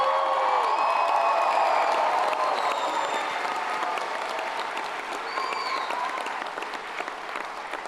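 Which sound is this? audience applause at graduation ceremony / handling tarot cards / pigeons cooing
audience applause at graduation ceremony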